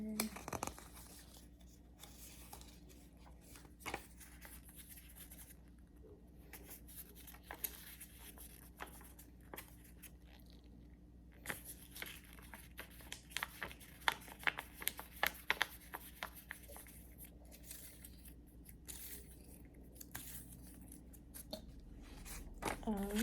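Paper slips being rolled up by hand for a raffle drawing, giving soft, close crinkling and rustling touches scattered across a quiet room with low background hum.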